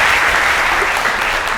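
An audience in a lecture hall on Java programming claps to welcome a speaker, a dense, even burst of applause that fills the whole moment without voices.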